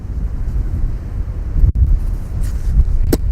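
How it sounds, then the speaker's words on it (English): Strong outdoor wind buffets the microphone on an e-scooter ride, a loud continuous low rumble with gusty surges and a brief dropout midway. "Oh wow, the wind is no joke today."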